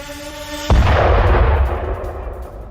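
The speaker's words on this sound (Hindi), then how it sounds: "ड्रोन अटैक के बाद जोरदार धमाका होता है और धमाके की आवाज भी सुनी जा सकती है" A sudden loud explosion from a drone attack in the Russia-Ukraine war booms after a brief tonal hum, its deep rumble decaying slowly over the next couple of seconds.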